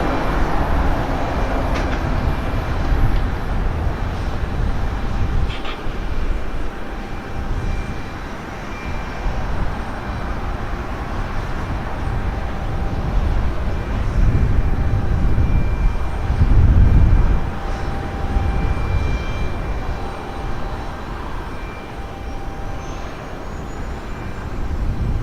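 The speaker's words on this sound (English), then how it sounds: "RB211s do sound pretty nice" Aircraft with Rolls-Royce RB211 jet engines at Portland Airport make a sustained rumbling roar from a moderate distance, swelling and easing over time, with wind noise and faint high engine whine, and no voices.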